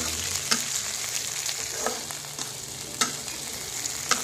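Pucung sautéed with spice paste, bay leaves and lemongrass in a pan for Betawi gabus pucung, a steady close sizzle broken by several sharp scraping stirs, no voices.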